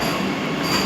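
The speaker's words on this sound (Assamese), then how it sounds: "এইখন ট্ৰেইন আছিলে।" A train rolls past the platform at New Cooch Behar station, a steady loud rumble of railcars with a thin wheel squeal on top, continuous through the brief moment and with no talking.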